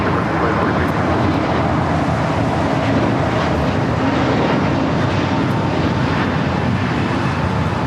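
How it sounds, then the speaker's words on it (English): A Frontier Airbus A320neo in Summer the Swan livery takes off at LAX, its engines a loud, steady broadband roar that holds throughout, with a voice faintly audible under the noise. "4316 taking off to Atlanta on the A320 Neo Summer the Swan livery."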